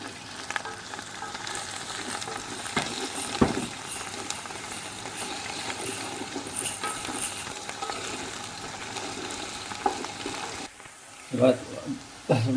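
Onions fry in oil in a pan for Sindhi chicken biryani, a continuous crackling sizzle with utensil taps, while a person talks over it; near the end it briefly quietens before clattering resumes.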